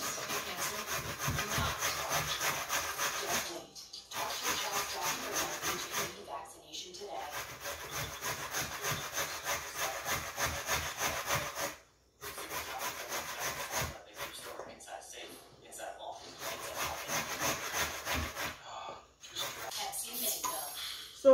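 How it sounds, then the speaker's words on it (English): A carrot is grated by hand on a grater into a bowl, giving repeated rasping scrapes in steady bursts with brief pauses between strokes, fairly close and unaccompanied by talk. "Finish chip the carrot."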